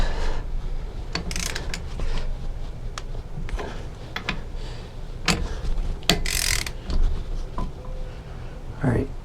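Close-up ratcheting clicks come in scattered bursts as bolts are snugged on a Torqmasters LunchBox locker during a 14 bolt axle install, with some rustling handling noise and a voice now and then.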